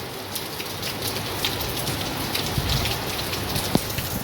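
Heavy monsoon rain pours steadily over a flooded rooftop terrace in Surat, a dense continuous hiss with occasional nearby drips and splashes standing out, close and fairly loud with no talking.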